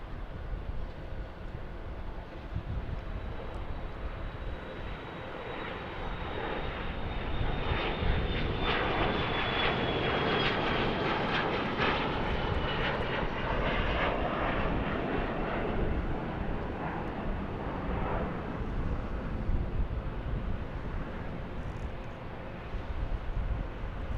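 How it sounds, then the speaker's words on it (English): A Southwest Boeing 737-800 jet landing at Dallas Love Field, its engine roar swelling from a steady drone to a loud broad rush mid-clip with a falling whine, then easing as it rolls out, heard from a distance with no talking. "That's a buttery smooth touchdown there by that 737-800."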